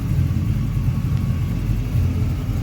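A 1987 Chevrolet Silverado R10/C10 pickup fitted with a Chevy Performance crate LS3 6.2-liter V8 of 500-plus horsepower idles with a loud, steady, deep rumble close by.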